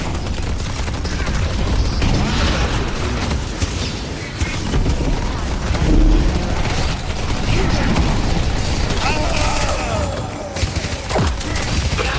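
Turrets open fire in the video game Deadlock, a dense, continuous clatter of rapid gunshots and booms layered with game effects that keeps going throughout.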